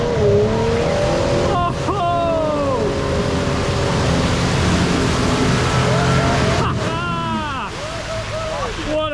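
A 4WD ploughs through mud and deep water on a rainy off-road track, its engine droning loud and steady under splashing, with revving surges near the end and voices calling out over it.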